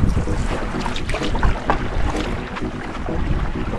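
A boat is paddled upriver against the current on the Makah Waterway, with steady splashing and sloshing water under dense wind rumble and no talking.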